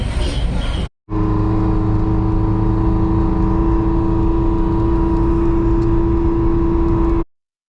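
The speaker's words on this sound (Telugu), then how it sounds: "వెహికల్ వెళ్తుంటే సౌండ్ ఎలా వస్తుందో చూసారా రోడ్ మీద" A four-wheel-drive vehicle drives along a snowy mountain road near Manali's Solang Valley, giving a loud, steady engine drone with road noise heard from close by, broken by a brief cut near the start.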